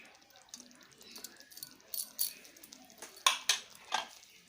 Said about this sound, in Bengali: ঘি ভালোভাবে মিশিয়ে নেব।